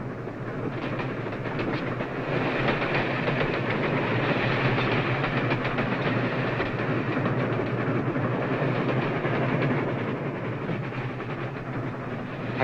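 A train rolls along the rails in a 1940s wartime film, a continuous rumbling roar with a faint clickety-clack that holds steady and loud throughout.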